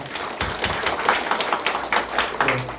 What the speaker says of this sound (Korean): 성도님한테 인사할 때 다시 한번 큰 박수로 축복하시겠습니다.